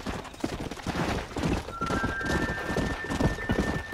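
Horses gallop in Red Dead Redemption, a rapid, close clip-clop of hooves drumming steadily throughout, with a faint high tone entering partway.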